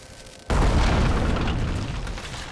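A sudden loud boom from an explosion in the video game Survival: Fountain of Youth, hitting hard after a quiet moment and then rumbling on as a long decaying roar.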